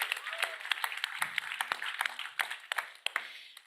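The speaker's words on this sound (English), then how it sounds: "Let's give a round of applause to all facilitators and mentors." Audience applause for facilitators and mentors at a youth food innovation event, a scattered patter of claps with sharp individual hits, moderately loud and fairly close for a few seconds.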